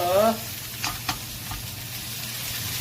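Vegetables stir-frying in a pan for stir-fried udon, with a brief louder sizzle at the start, then steady low frying hiss broken by a few scraping stirs of the spatula.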